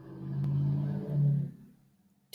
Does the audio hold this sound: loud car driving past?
yes